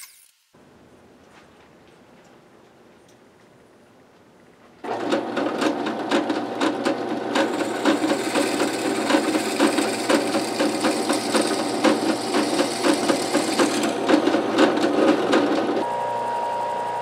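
Wooden pieces for a wooden air turbine being split in half, likely with a power saw: a loud, steady machine whine with rapid rhythmic chatter starts abruptly after a quiet stretch and runs continuously to the end, with no talking.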